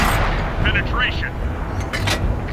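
In the World of Tanks video game, a tank cannon fires during a wartime airfield battle. The shot is a loud, booming blast with a rumbling tail, heard with voices in the background.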